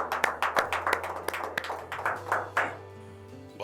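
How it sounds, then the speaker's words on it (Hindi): A small audience claps to welcome a poet at a Hindi-Urdu poetry session, a cluster of distinct nearby hand claps in a loose, uneven rhythm that thins out and fades toward the end. "आइए ज़ोरदार तालियों में स्वागत करते हैं"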